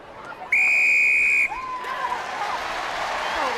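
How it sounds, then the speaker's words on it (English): A referee's whistle at a women's Six Nations rugby match between England and Ireland gives one long, piercing blast for a penalty over a stadium crowd, which swells into cheering as commentary continues beneath. "Big whistle, big early penalty"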